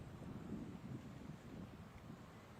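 Wind gusts across an outdoor footgolf course at a world cup event, a faint, low rumbling buffet on the microphone with no voices.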